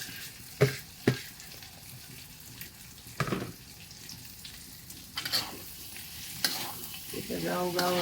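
Young jackfruit being stirred and fried in a pan: a low steady sizzle broken by sharp scraping stirs of a utensil against the pan, close and without speech.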